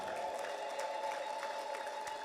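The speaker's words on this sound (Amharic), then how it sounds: "እልልታና ጭብጨባ ለኢየሱስ ይሁን።" A church congregation claps and ululates together, a dense continuous wash of applause with a sustained high trilling tone running through it, loud and unbroken throughout.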